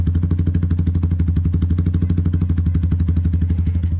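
A Suzuki Gixxer 155 motorcycle fitted with an aftermarket exhaust idles nearby, a loud, steady, rapid thumping beat that holds an even rhythm throughout.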